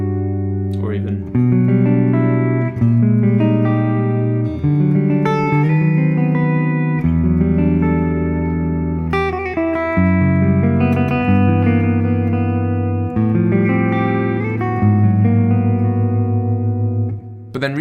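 Guitar chord voicings that use open strings as clusters and extensions, a long flowing passage of sustained, overlapping chords that ring into each other with bright plucked attacks.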